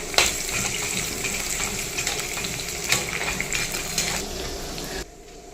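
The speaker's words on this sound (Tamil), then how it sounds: "இப்போ பாருங்க பூண்டு வந்து லைட்டாக வதங்கட்டும்." Crushed garlic frying lightly with dried chillies in a pan for a Tamil sundakkai chutney, a dense close sizzle with a few stirring clinks, cutting off abruptly near the end.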